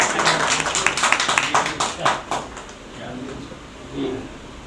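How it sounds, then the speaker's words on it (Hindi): An audience at a poetry recital claps in a quick burst of sharp, close handclaps that thins out after a couple of seconds, followed by quieter background murmur. "अगर आप लोगों के हाथ खाली हो तो ताली बजा सकते हैं।"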